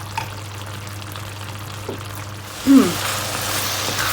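Pork and rhubarb stalks stir-fry in a pan with a steady, close sizzle, broken by a brief louder scrape of the spatula partway through before the frying hiss grows fuller.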